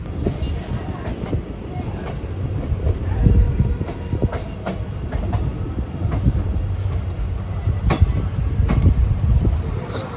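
A train rumbles and rattles along, with clacking wheel knocks and occasional squeals as it slows into Nanjangud railway station on the Mysuru–Chamarajanagar line; loud and close, no talk.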